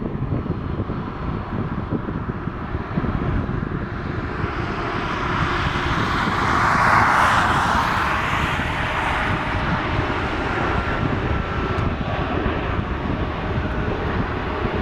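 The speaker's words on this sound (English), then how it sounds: "There goes the Delta A321neo going to John F." A Delta Airbus A321neo jet airliner departs Portland, its engines a continuous broad roar with wind buffeting, swelling to a peak midway and holding steady, with no voices.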